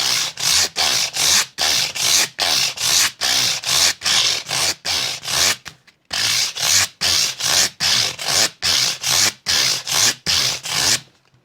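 Rapid back-and-forth sandpaper sweeps across guitar frets during fret leveling on a Harley Benton ST-70, a loud, close, rhythmic rasping that pauses briefly once midway.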